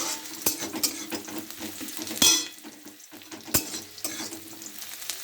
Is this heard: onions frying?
yes